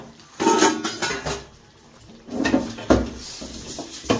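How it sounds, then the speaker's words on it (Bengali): Fried bitter gourd tipped into a pot of Bengali shukto, giving a few close clattering knocks and scrapes of utensil against metal in uneven bursts, with no talk. "এবারে এর মধ্যে দেব হচ্ছে আমি ভাজা উচ্ছেটা"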